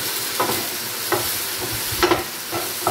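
Sausages and mushrooms frying in a pan on a gas stove, a soft steady sizzle with a few brief clatters of stirring, no talking.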